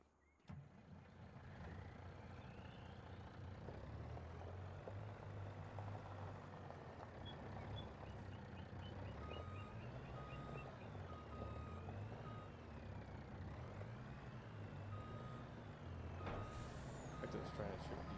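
A truck in Farming Simulator, on a Michigan prairie farm at harvest time, backs up with steady repeating reversing beeps over a running diesel engine, and a few air-brake hisses stand out. A voice talks over parts of it.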